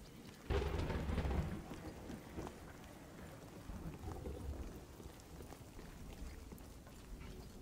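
Rain falling in The Cycle Frontier video game, a steady hiss of downpour with a loud rumbling burst near the start that fades into a softer, continuous patter.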